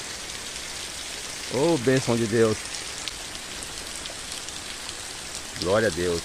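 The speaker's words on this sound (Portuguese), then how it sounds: "Muita chuva, povo de Deus." Heavy rain pours onto the ground in the Cajamar region, a steady close hiss throughout, with someone speaking briefly twice over it.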